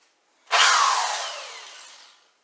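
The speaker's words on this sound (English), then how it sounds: "with about a minute of power stirring, my drill and stir here, it should start working just fine" A power drill with a stir attachment whirs into a container of patching compound for a hollow door repair, starting abruptly at full speed and then fading gradually over about two seconds.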